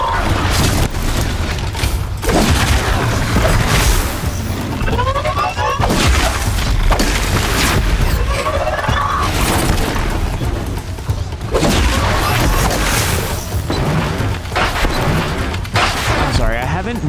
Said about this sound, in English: Notice the bombs that it's dropped. It's damaging.